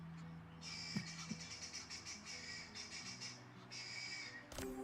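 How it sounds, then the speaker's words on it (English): A repetitive bird call from the Across the Obelisk video game, a series of bright chirping bursts in two runs under a low background drone. "That is an annoying bird."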